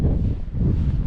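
Steady low wind buffeting a microphone at a campsite on the Pennine Way, a continuous rumbling roar with slight gusts throughout.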